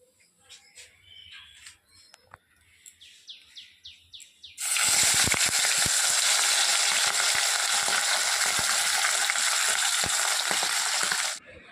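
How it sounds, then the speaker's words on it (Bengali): Pomfret fish frying in oil in a wok: after a quieter stretch with faint bird chirps, a loud, close, continuous sizzle bursts in and holds steady to the end, with light crackles and no speech. "আর এদিকে দেখো মাছ ভাজা তো বসিয়ে দিয়েছি"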